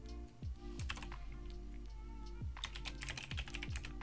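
Rapid clattering keystrokes on a computer keyboard come in quick bursts with brief pauses, close and fairly quiet, with no talking.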